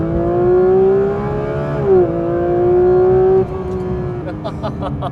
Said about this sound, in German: Sollen wir mal von 0 beschleunigen? Ja. Dann machen wir das doch mal, oder? Machen wir sogar mit Launch Control.